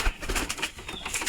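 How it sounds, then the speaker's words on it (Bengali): Pigeons fighting in their coop: a brief, noisy scuffle of flapping wings with soft coos, close by and continuous for about a second. "কবুতরগুলো মারামারি করছে,"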